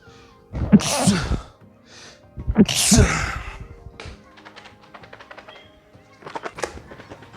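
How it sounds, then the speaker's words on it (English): Two forceful sneezes in close succession, loud and near, followed by softer tapping and clicking sounds. "I sneeze now."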